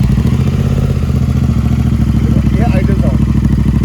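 Royal Enfield Continental GT 650 twin-cylinder motorcycle with an aftermarket exhaust idling, a steady close, loud low throb with a faint mechanical clatter running through it.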